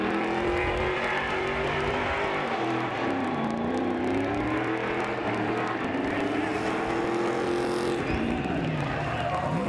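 Robby Gordon's race truck burns out its tires at the Long Beach race, a sustained loud engine roar with wavering revs and tire squeal, steady throughout with faint crowd or announcer noise underneath.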